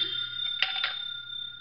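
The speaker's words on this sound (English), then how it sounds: "Answer the phone, Archie." A telephone bell rings in a radio drama, a steady electronic trill with a sharp jangle partway through, clear and fairly close with no talking over it.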